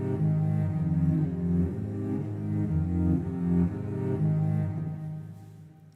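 A Pathfinder Cello virtual instrument preset with trimmed path ends plays short, clean bowed-cello notes in a steady repeating pattern at moderate volume that fades at the end, with no voices.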